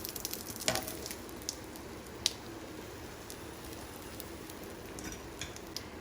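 A Spanish omelette frying in a pan over a high flame, giving a steady, soft sizzle throughout with a few faint crackles and pops, heard alone with no voices.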